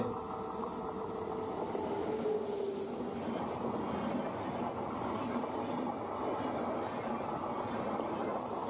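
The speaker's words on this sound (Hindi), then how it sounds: "अवध असम एक्सप्रेस, डिब्रूगढ़ से लालगढ़।" Avadh Assam Express, running Dibrugarh to Lalgarh, rumbles past in a steady, continuous roar with a faint high whine above it, no distinct clatter standing out.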